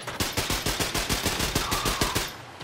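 Rapid automatic gunfire in Wolfenstein II: The New Colossus, a steady burst of about fifteen evenly spaced loud shots that stops abruptly near the end, with no talk.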